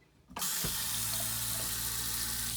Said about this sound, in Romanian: avem în baie apă, în duș